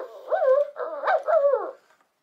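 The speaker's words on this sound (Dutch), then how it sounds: "maakt geluiden net als een echte hond. Blaffen en piepen." A robot toy dog gives a short run of electronic whimpering yips and barks, three close bursts in a row, fairly loud and alone with no voices.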